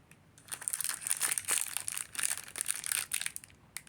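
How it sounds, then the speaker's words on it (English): Paper crinkling and crumpling up close, bursts of dry rustling that swell and fade over a few seconds, with no voices. "A lot of paper crinkling going on."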